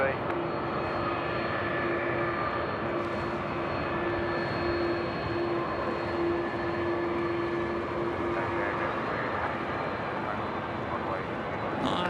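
An Air Canada airliner at Sydney Airport makes a steady, loud jet engine roar that fills the whole stretch without a break, with a faint tonal whine running through it.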